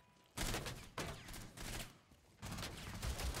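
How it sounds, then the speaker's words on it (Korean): Gunfire in Rainbow Six Siege, a dense burst of rapid automatic shots in the video game with brief gaps between volleys, loud and close. "총, 총 쏘고 있다"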